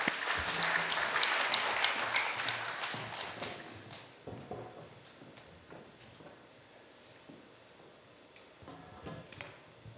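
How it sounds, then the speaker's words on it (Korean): A church congregation at a Friday prayer meeting claps enthusiastically to welcome a speaker, loud at first and gradually tapering off into scattered claps over several seconds. "박수로 우리 환영하겠습니다"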